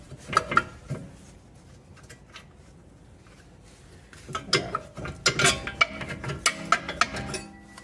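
A ratchet spins a nut off a front lower control arm on a 2004-2009 Toyota Sienna, with clicking bursts and metallic clinks close by, quiet early on and then busier rapid ratcheting in the second half.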